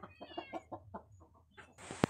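A chicken clucks close by near rice bait laid in a trap, a run of short rhythmic clucks followed by a sharp flutter or scuffle at the end.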